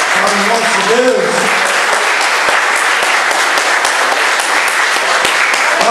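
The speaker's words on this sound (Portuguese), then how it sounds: "Vamos dar uma salva de palmas para Jesus, para o nosso Deus." A church congregation applauds, steady dense clapping throughout, loud and close, with a voice briefly heard near the start.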